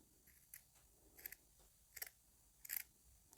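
Several short, crisp snips of scissors trimming sewing fabric, spaced irregularly at close range in a quiet room.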